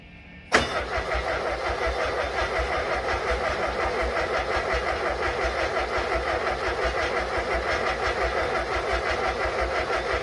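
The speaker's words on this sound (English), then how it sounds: "We're going to crank it without any ignition connected to get oil flowing." A rebuilt 1600cc engine cranks steadily on the starter for about ten seconds with the ignition disconnected, a fast even chugging rhythm that never catches or fires up.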